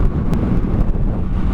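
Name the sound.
wind noise riding a Kawasaki Z650 motorcycle without wind protection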